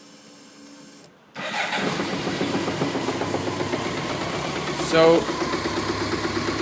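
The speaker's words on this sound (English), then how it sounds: "I'm going to start the bike in order you to hear it." A 1991 BMW K100 RS 16V motorcycle with a suspected clutch problem cranks briefly, catches and settles into a steady, close idle, with a short spoken word near the start.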